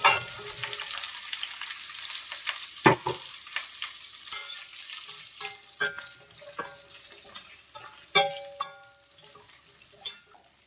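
Cauliflower florets fry in a pan for gobi fry, giving a soft, steady sizzle broken by sharp clattering taps and scrapes of a utensil stirring against the pan.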